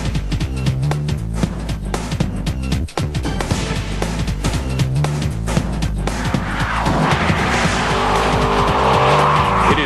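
A 2002 Chevrolet Corvette Z06 with a 405-horsepower V8 drives hard, its loud engine roaring steadily under music, with tires squealing and skidding as the car is pushed through corners.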